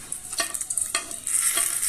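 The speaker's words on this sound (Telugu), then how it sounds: "ఆ ఎర్రగడ్డను మిక్సీకి వేసుకోకుండా చిన్న చిన్న ముక్కలుగా కోసి ఈ విధంగా కలుపుకోండి" Chopped roasted onion is stirred into roasted brinjal chutney, giving a couple of short scraping spoon strokes over a soft hiss.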